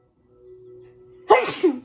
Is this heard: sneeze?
yes